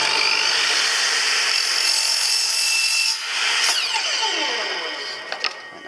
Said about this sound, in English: Right, so we have our chop saw set up. I'm going to cut that angle